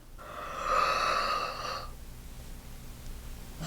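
A singer's wide, open yawn during a vocal warm-up for operatic singing, a single breathy vocalized sigh lasting over a second and a half, close and clear, then fading into quiet room tone.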